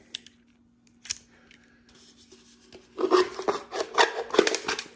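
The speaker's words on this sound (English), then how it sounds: "Any pair of scissors will work. It's aluminum, it's thin." Scissors snip and crunch through a thin aluminum can in a rapid series of sharp cuts, preceded by a few quiet clicks and handling sounds.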